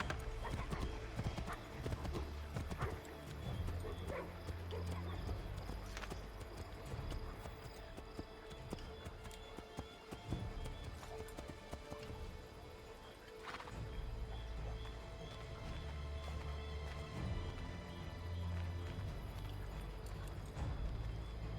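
Horse hooves galloping steadily in Assassin's Creed 3, rhythmic clip-clop close by with an occasional whinny, game music and voices speaking over it.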